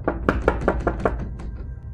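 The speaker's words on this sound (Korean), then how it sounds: "문을 두드렸습니다" Rapid, insistent knocking on a studio apartment door late at night, about seven quick raps in a steady rhythm that fade slightly toward the end, close and alone with no voices.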